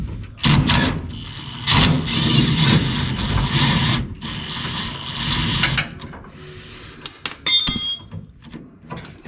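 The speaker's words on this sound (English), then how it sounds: "Now I should gotta get the ratchet, the rattle gun on there." A pneumatic impact wrench rattles on the axle of a 1989 Ford F150 in a few loud bursts. Metallic clanks follow, along with a short sharp buzzing rattle near the end.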